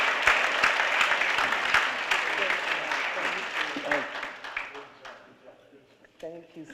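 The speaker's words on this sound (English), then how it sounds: "And let's just give her a round of applause, y'all." Steady applause from an audience at an NAACP One Million Jobs Campaign event in Connecticut, loud at first and then thinning out into scattered claps, with a voice speaking over it as the clapping fades.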